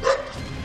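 A stray dog on a Karachi street gives a single short, sharp bark, close and loud, followed by a brief fading tail of street noise.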